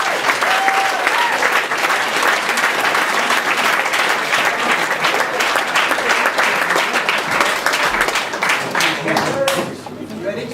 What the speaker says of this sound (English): a big round of applause, please, for our next presenter, Mr. Kenneth Barker.